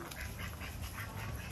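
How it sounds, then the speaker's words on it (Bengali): Ducks quack on a farm with turkeys and cows nearby, several short nasal calls at moderate distance over a steady outdoor background hiss. "ওই হাঁস দেখেছো,"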